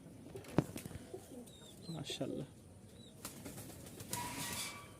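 Pigeons coo softly in several short calls, with a burst of wing flapping and a sharp clap near the start; faint voices murmur in the background.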